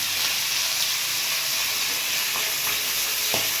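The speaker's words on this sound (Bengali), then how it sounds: "তো আমি 3টে করে ভাজ দিলাম।" Pomfret fish, three at a time, frying in hot oil in a frying pan, giving a steady, close, dense sizzling hiss with a few faint crackles and no voices.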